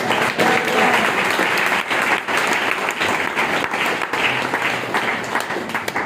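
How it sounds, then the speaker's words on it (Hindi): A church congregation claps together to give thanks during an anniversary celebration service, a dense sustained applause that fills the room for several seconds, with a voice faintly audible underneath. "ताली बजा के प्रभु को धन्यवाद दीजिए"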